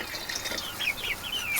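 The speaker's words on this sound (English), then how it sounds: "Now I'm going to add the stuff to their waterers. So what I do is just a splash." A small splash of liquid is poured into a partly filled 3-gallon chicken waterer outdoors, a short steady wash of pouring water with faint birds chirping nearby.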